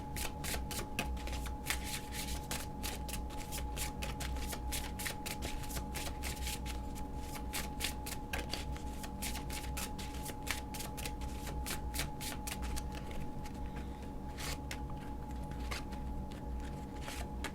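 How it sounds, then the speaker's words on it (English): An oracle card deck is shuffled close up, its cards riffling and slapping in a steady, rapid rhythm that continues without a break, with no talk over it. "Let me get 3 cards for you from this oracle deck for Pisces to go with this reading."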